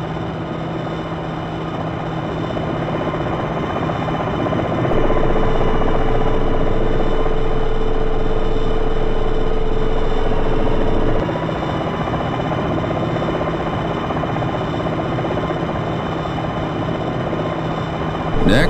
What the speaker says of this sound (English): Pull the aircraft to a hover.